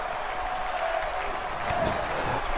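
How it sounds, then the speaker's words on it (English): In WWE 2K18, an arena crowd cheers for Bayley with a steady, dense wash of applause and cheering, swelling slightly partway through, heard as a continuous roar in the background. "Everyone is cheering for Bailey."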